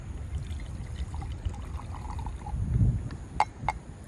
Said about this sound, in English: let's go ahead and pour myself a glass of Japanese whiskey for the very first time